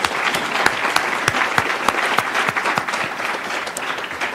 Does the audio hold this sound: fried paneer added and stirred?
no